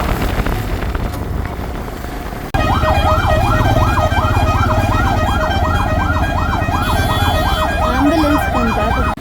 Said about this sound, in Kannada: ಆಂಬ್ಯುಲೆನ್ಸ್